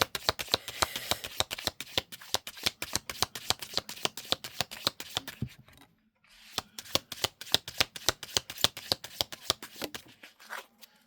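A deck of tarot cards is shuffled up close in quick, crisp riffling bursts, a rapid run of sharp clicks that pauses briefly midway and then resumes, with no voices.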